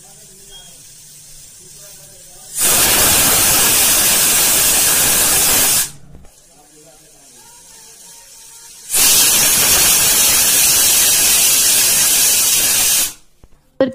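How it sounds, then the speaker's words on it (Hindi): A pressure cooker on a gas stove at medium flame, cooking amchur chutney, lets out two long loud hissing whistles of steam about three seconds each, separated by a quiet pause, close by. "कुकर की 2 सीटी आ गई है,"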